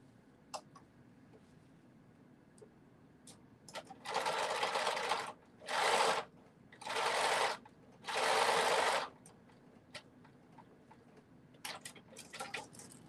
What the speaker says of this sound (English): when I sew the sides together